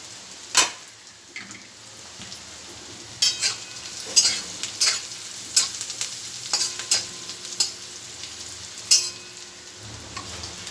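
Onions fry in a pan for samosa filling, with a steady soft sizzle under a string of sharp, irregular spoon scrapes and stirring clatters recurring every second or so, close and fairly loud.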